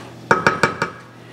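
A metal lid settles onto a pot of boiling yam with four quick ringing clanks in a row, close and bright, then the rattle stops and quiet follows.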